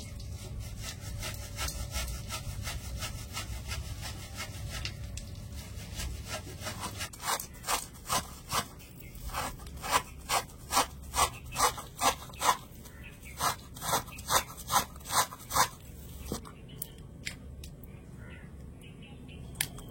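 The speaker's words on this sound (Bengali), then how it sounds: "এভাবে গ্রেটার দিয়ে একটু ঘষে নেবেন, দেখবেন খুব সুন্দর তালের কাঠ বের হবে।" Palm fruit pulp rubbed against a kitchen grater: a steady scraping at first, then a run of rhythmic rasping strokes, about a dozen evenly spaced, close and moderately loud, with faint background noise.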